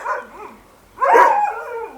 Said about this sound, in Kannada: ಇಲ್ಲಿ ಇಪ್ಪತ್ತಕ್ಕೂ ಅಧಿಕ ಮುದೋಳ್ ಬೇಟೆ ನಾಯಿಗಳಿರುವಂಥದ್ದು